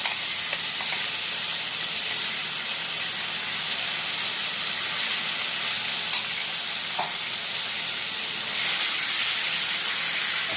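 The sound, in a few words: frying onion paste in oil for katla kalia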